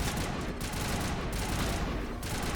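Dense, continuous gunfire crossfire in the Mass Effect video game, a steady wash of overlapping shots at even loudness for the whole stretch with no voices.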